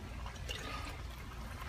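Water poured into a near-empty tomato sauce can to rinse out the last of the sauce while making baked ziti, a steady soft trickling wash that stays quiet and even throughout.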